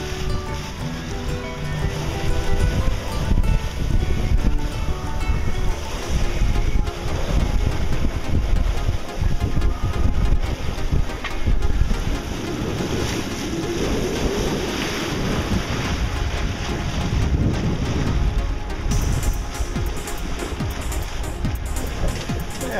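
Strong wind roars across the microphone aboard a sailboat on Lake Michigan, gusting in waves with water and hull noise beneath, continuous and loud for the whole stretch.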